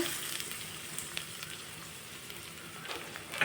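Chopped onion frying in a pan with curry leaves, a soft steady sizzle and faint crackle with a few light stirring taps, fairly quiet and without talk.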